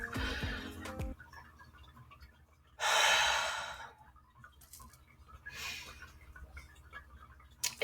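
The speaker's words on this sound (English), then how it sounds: "I want everyone to just take like a collective breath with me." A deep collective breath, drawn in as one long, loud inhale and later followed by a softer exhale, with quiet ticking in between and no talk.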